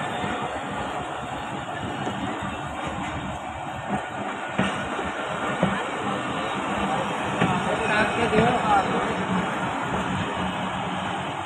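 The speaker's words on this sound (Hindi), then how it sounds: "सिर्फ ये इकलौती ट्रेन जो रोडी जा रही है" Khyber Mail Express passenger train pulling out of Raiwind station, a dense, continuous rumble of rolling wheels and carriages with faint clacks, heard close under a murmur of voices on a crowded platform.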